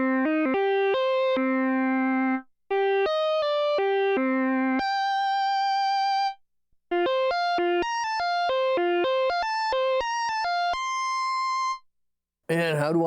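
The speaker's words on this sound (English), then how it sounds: "And let's check out fuzz guitar too." A Roland SH-2000 synthesizer on its fuzz guitar preset plays a bright, buzzy melodic lead of quick stepping notes and longer held tones with short pauses, loud and close, with a brief voice at the end.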